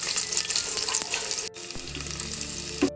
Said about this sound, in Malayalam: എണ്ണ ഒക്കെ ഒഴിച്ചിട്ടുണ്ട് നമുക്ക് ഇതിലേക്ക് സവാള ഇട്ട് കൊടുക്കാം